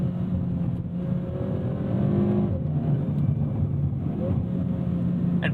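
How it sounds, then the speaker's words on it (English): A 2022 Hyundai Veloster N with a dual-clutch gearbox revs hard toward its redline, with the exhaust in its sportiest setting, heard from inside the cabin as a steady, moderately loud engine drone with faint crackles. "Getting pops and bangs. We have exhaust in the sportiest setting."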